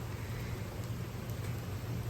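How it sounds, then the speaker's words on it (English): Steady rain falling during Hurricane Milton, a continuous even hiss of drops with low rumbling beneath, faint and unbroken throughout. "the rain's just steadily coming down"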